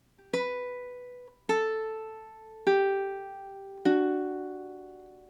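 Ukulele playing the intro measure of a song: four clean plucked notes about a second apart, each ringing out and decaying, played alone and fairly quietly.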